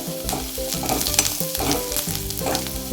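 Onion roasting in oil in a pan over medium gas, a close, continuous sizzle and crackle with stirring scrapes and occasional tonal clatter, no voices.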